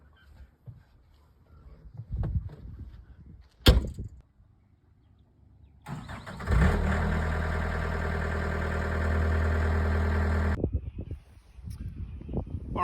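Clunks and a door shutting, then a John Deere skid steer engine cranks and catches into a loud, steady diesel idle for several seconds before cutting back, with more handling noises after.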